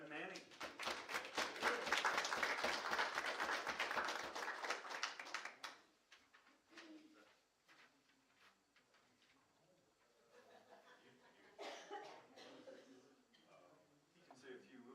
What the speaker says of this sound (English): Give a big round of applause here to Coach Devin Manning.